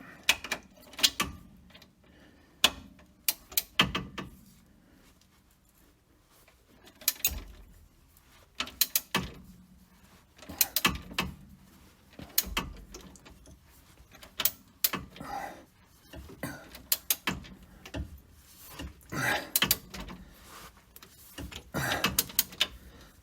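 Torque wrench tightening a trackbar bolt on a Jeep Cherokee being fixed for death wobble, with sharp mechanical clicks and ratcheting bursts scattered irregularly through the span, close and fairly loud, separated by quieter pauses, no speech.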